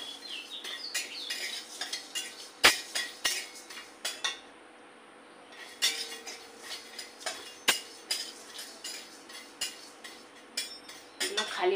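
Coriander, cumin, black pepper and whole garam masala dry-roasted in an empty pan, a spoon scraping and tapping the metal in quick irregular clicks, close and fairly quiet, with no talking.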